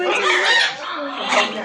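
A parrot at Parrot Mountain in Pigeon Forge, Tennessee, gives two short raspy, squawking calls close by, mixed in with a person's chatty voice.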